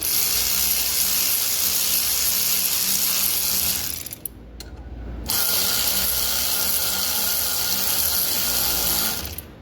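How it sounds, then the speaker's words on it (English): An electric ratchet tightens a bolt on a Honda Foreman TRX400W ATV, whirring loudly and continuously with a grinding mechanical rattle, pausing briefly midway, then spinning up again at full strength. "So I pulled out my handy dandy electric ratchet."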